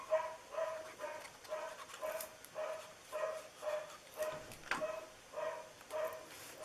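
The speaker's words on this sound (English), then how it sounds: "Sorry about my dog barking in the background." A dog barks repeatedly in the background indoors, roughly a dozen faint, evenly spaced yips and barks with a slightly whining edge, fairly distant and quiet.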